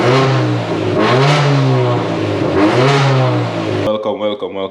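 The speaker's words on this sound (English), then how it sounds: "let's give y'all a fucking rev" A 1.8T four-cylinder engine in an Audi TT revs loudly up and down twice in rising and falling sweeps, close to the microphone, then drops to a rougher idle near the end.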